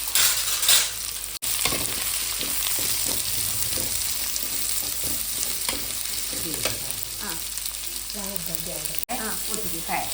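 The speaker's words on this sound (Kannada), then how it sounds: "ಚೆನ್ನಾಗಿ ಫ್ರೈ ಮಾಡಬೇಕು" Garlic and onion frying together in a pan for country chicken sukka, a steady close sizzle with intermittent stirring scrapes and a couple of brief dropouts, no voices.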